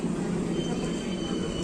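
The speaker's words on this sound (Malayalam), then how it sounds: "നമ്മൾ അവിടുന്ന് ട്രെയിൻ കയറി" Constant low rumble and rolling wheel noise inside a single-coach passenger train near Byndoor on the way toward Udupi, steady and fairly loud throughout.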